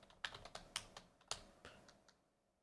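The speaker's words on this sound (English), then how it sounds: "I'm typing it in." Keys clatter on a computer keyboard in a short burst of irregular taps, quiet and close, trailing off at the end with no voices.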